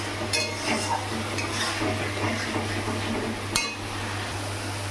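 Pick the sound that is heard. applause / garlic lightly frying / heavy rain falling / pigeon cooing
garlic lightly frying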